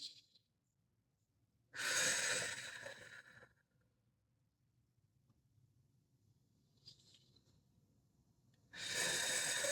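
Deep breathing: a long, loud inhale near the start, then quiet, a faint short breath in the middle, and another strong drawn-in breath at the end, close to the microphone with no talking.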